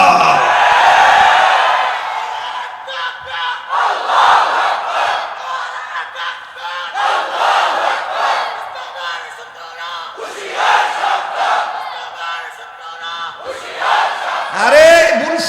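A crowd at a Bengali Islamic sermon gathering chants slogans in loud, repeated bursts of many voices. Several swells of shouting come at intervals, with quieter gaps between them.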